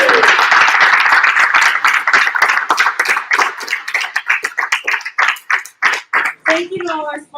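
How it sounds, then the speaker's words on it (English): A team cheers and applauds at the Wall Street Rides FAR 2021 charity ride: loud, close voices over a burst of clapping that thins into slower, separate claps toward the end. "I'd love to get a cheer from our entire team over here"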